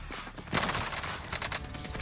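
Gunfire in a Call of Duty video game, a quick burst of rapid shots that is fairly loud and fills the short moment.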